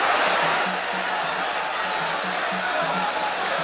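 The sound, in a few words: uproarious boxing stadium crowd cheering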